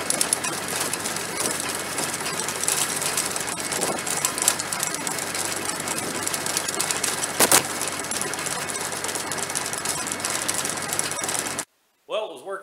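Loud, dense mechanical clatter from a tractor-mounted cutter chewing through branches, running steadily for about eleven seconds before cutting off abruptly.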